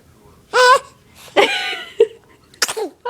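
A baby sneezes a few times in short, sharp bursts spread over a few seconds, close and fairly loud, mixed with small breathy vocal sounds.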